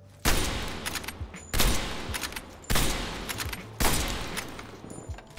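Four sniper rifle shots in Black Ops Cold War, fired at a wall, each a loud sharp crack with a short decaying tail, spaced about a second apart.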